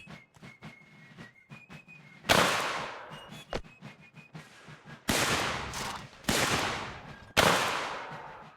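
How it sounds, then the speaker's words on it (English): Musket volleys crack out in Mount & Blade Warband during an American Civil War battle, four loud ragged bursts of massed fire with echoing tails, preceded by scattered distant shots and whistles. "we'll get some kind of semblance of volley fire going here"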